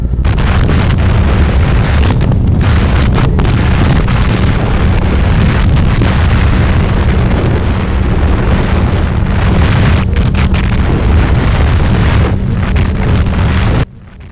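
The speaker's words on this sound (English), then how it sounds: "you're obviously not going to hear a word that I say between the wind noise and the motorcycle itself" A motorcycle cruises at highway speed under loud, steady wind buffeting, with a constant engine drone that stays close and unbroken, and no talking.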